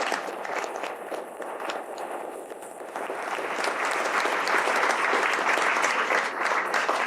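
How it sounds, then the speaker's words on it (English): An audience in a lecture hall applauds a professor before his talk on the WHO, the clapping moderate at first and then swelling fuller and steadier, with no speech over it. "Have I already received so much applause before?"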